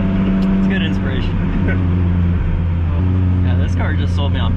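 Supercharged Lotus Exige with a Toyota drivetrain being driven, a loud steady engine drone heard from inside the cabin with shifting pitch under ongoing conversation between occupants.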